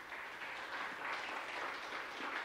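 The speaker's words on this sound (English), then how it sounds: "Give yourselves a hand clap for coming out to church." Church congregation clapping hands together during a worship service, a steady, fairly soft wash of applause sustained for a couple of seconds with no talking.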